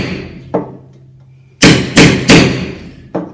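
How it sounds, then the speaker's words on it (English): A hammer drives a bolster chisel into the finish coat of plaster on a wall: five sharp, loud metallic strikes, one early, then a quick cluster of three and a final blow. "I'm just going to break that finish on the actual plaster itself using my bolster chisel."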